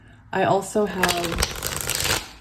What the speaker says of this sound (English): I do really enjoy shuffling on camera because it allows me to get the energy flowing within the cards